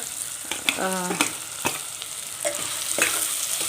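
Pigeon peas (togari kalu) fry directly in hot oil for pulao, making a continuous bright sizzle with irregular stirring taps and clinks, near and fairly loud.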